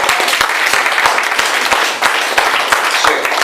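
Audience clapping at a business presentation, a steady, dense burst of many hands that fills the whole stretch at close range, with a voice faintly underneath.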